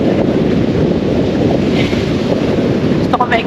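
Sea waves and wind roar at a beach in Poland in summer, a loud, dense, continuous rush with heavy wind buffeting the microphone.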